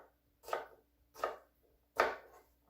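A sharp kitchen knife slices vegetable rounds into thirds on a cutting board for Southwestern corn chowder, making three crisp, distinct chops at an even pace, close and clear with no talking.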